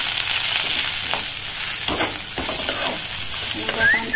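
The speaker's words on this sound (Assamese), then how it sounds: "এনেকুৱাখন ভাজি ল'ব লাগিব।" Taro and chili stir-fried in a pan, a steady broadband sizzle with scraping stirring strokes throughout, close and fairly loud, no talk.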